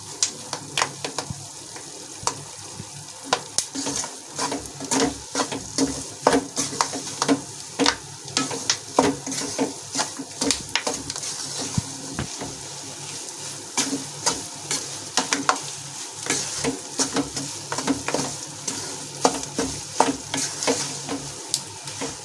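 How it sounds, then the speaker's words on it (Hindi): Melon seeds, almonds and wheat flour roasting in a pan for laddu: a steady run of dense crackles and sizzling pops, close and continuous, with stirring and no talking. "इनकी भुनने की आवाज आने लगी है, चट चट की आवाज आने लगी है।"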